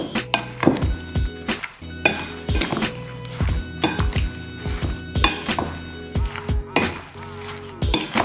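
Strawberry jam with white sugar stirred in a pan, a spoon clinking and scraping against the metal in irregular knocks, close and fairly loud, with no talk.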